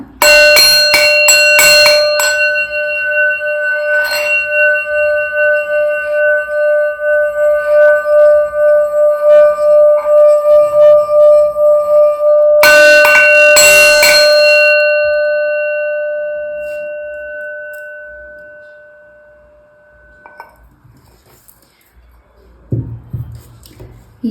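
A ringing bell used in a card-reading session, sharp metallic strikes ringing out with a long sustained tone, struck again midway, then slowly fading away near the end.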